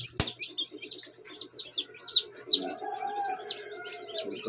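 Chicks chirping in a brood, a steady run of short, high peeping calls close by, with a sudden sharp knock near the start and cooing-like low sounds underneath.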